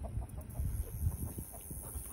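Backyard chickens and a big rooster cluck in a flock outdoors, with short close clucks and soft calls scattered over a steady background hiss and no talk.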